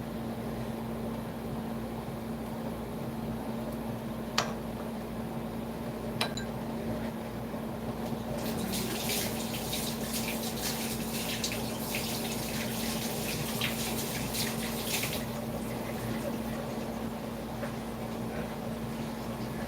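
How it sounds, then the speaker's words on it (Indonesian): Tap water runs steadily while hands are washed in a kitchen during cooking, a low continuous hiss with a louder splashing stretch in the middle and a faint hum beneath. "Oke, saya bersihkan dulu tangannya ya. Saya cuci kembali."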